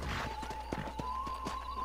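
Horse hooves clip-clop in Red Dead Redemption, a short run of light rhythmic hoofbeats over a steady tonal hum of game music, with no clear whinny standing out.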